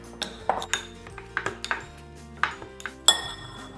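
A utensil stirs protein cookie dough in a bowl, giving irregular clinks and scrapes against the bowl's sides, close and moderately loud with brief pauses between strokes.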